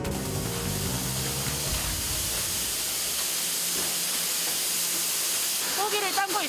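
A large cooking machine in a skipjack tuna cannery hisses loudly and continuously with steam, with a brief voice and some clanking under the hiss near the end.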